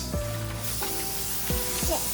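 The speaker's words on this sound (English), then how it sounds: "coating a pan with a nonstick cooking spray" Nonstick cooking spray hisses from a can onto a pan in several short bursts, loud and close, with no talk over it.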